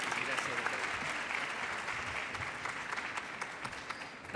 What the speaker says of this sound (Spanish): Muchísimas gracias por estar aquí. Un aplauso.